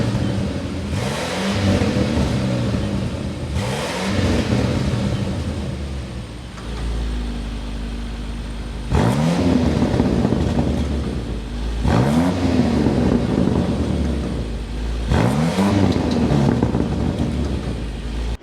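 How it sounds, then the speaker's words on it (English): The twin-turbo V8 of a 2025 Range Rover Sport SV Edition Two revs repeatedly in sharp bursts, the exhaust roaring and crackling between throttle blips at close range. "start it up so you can hear that exhaust note"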